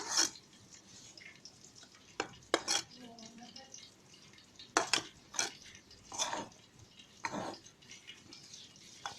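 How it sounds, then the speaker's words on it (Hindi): Spoon scraping and clinking in a bowl as spices are mixed into gram flour for pakoras, a run of sharp close taps and stirring scrapes with quiet pauses between them. "अब सारों को अच्छी तरीके से मिक्स कर लेंगे।"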